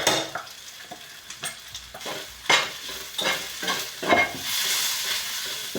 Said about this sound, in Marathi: हे एक वेळ मोठा गॅस करते आता आणि फ्राय करून टाकू आपण.